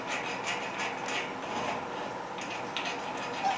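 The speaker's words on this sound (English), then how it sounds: "always sharpening his beak in the background over there" A pet bird sharpens its beak, producing a repeated scraping, grinding rasp in quick rhythmic bursts, fairly close and steady without talk.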